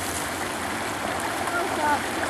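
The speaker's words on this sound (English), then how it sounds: "The water's pushing on the branch." Fast-flowing stream water rushes steadily and close by in Bloomer City Park, a dense continuous wash with faint voices underneath.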